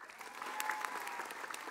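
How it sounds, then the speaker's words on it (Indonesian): Applause from a congregation at an Islamic religious talk, a fairly steady wash of clapping at moderate level with a few sharper claps standing out, running the whole stretch without a clear voice over it. "Tepuk tangan dong."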